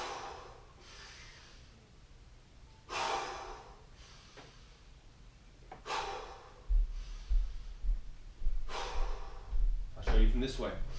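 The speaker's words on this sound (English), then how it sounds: "Deep breath in." Deep breaths drawn in and blown out forcefully during a warm-up squat, spaced every few seconds, with heavier rhythmic thumps and movement noise near the end.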